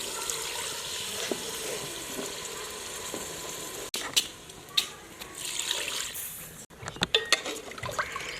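Water poured into beef frying in a pot for namkeen shorba, a loud hissing sizzle that drops as the water hits, followed by quieter bubbling with a few clinks of a utensil.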